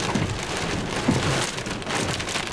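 Heavy rain and gusting wind from a tornado storm's rear flank downdraft pound the area in a loud, continuous roar, with low rumbles mixed into the downpour.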